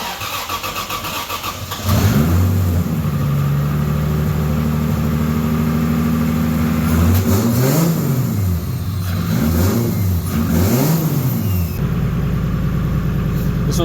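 A drift car engine starts after its oil pressure fault is fixed, settles into a rough idle, then gets blipped several times in rising and falling revs, loud and close throughout.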